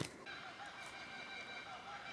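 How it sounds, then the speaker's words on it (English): Birds sing and chirp outdoors in a steady, faint chorus of thin, high calls, continuing throughout at a distance without any talk over them. "can you guys hear those birds?"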